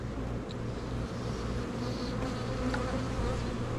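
Honey bees buzz steadily during a hive inspection, a close, continuous droning hum with brief louder passes as individual bees fly near, with no voices.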